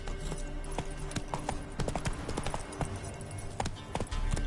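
Roach the horse's hooves clip-clopping at a trot in The Witcher III, a steady run of sharp, close hoofbeats over a busy game soundscape with music and ambience beneath.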